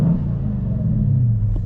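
A 2009 Dodge Challenger R/T engine idles close by, a steady low rumble with no voices over it.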